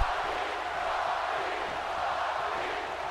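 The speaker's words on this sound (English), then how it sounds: "the crowd now getting behind The Rock. What an atmosphere" A dense crowd roar fills an arena in WWE 2K18 during a SummerSlam match, a steady, broad wash of cheering that holds at an even level with no break.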